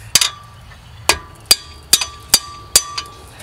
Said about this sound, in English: give it a couple of taps here with my hammer